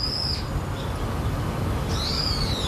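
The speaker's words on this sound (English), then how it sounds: "That bird got her right in the middle of the backswing, unexpected noise." During the final round of the 2017 TOTO Japan Classic golf tournament, a bird outdoors on the course calls twice, with short high chirps that break the quiet near a golfer's backswing and are heard alone, with no talk.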